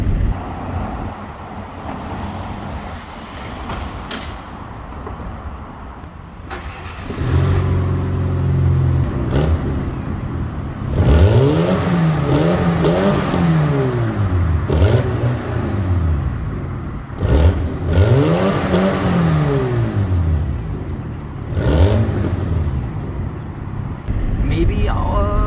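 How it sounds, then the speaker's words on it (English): A Fiat Seicento 1100 Abarth edition with a 1.1 liter engine and tuned exhaust revs repeatedly in rising and falling sweeps, loud and close, after a quieter idle at the start. "I did do the exhaust, as you may hear from the clip."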